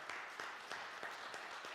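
A church congregation applauds during a Sunday morning service, a steady wash of many hands clapping with regular swells, fairly distant and continuous throughout.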